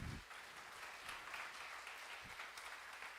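A church congregation applauds for Jesus during a sermon, a dense, even wash of many hands clapping, quiet and distant, continuing steadily throughout.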